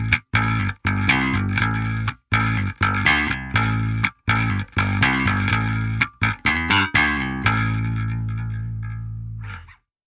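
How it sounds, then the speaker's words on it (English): Distorted electric guitar through an amp simulated with a ribbon 121 microphone impulse response: heavy chugging chords in choppy bursts and stops, ending on a long ringing chord that fades, loud and close, no voices. "Here's how the ribbon 121 on the right sounds by itself."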